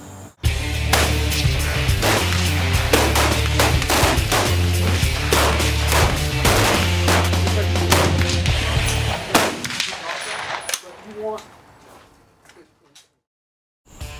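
Rapid volleys of high-power rifle gunfire at a shooting competition, loud and dense sharp reports for about nine seconds, then thinning to scattered shots and fading into near silence.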